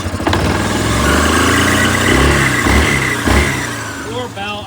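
Engine of a 2024 Yamaha Grizzly 700 ATV running close by, a loud, slightly rough rumble that rises and dips in revs, with someone talking over it.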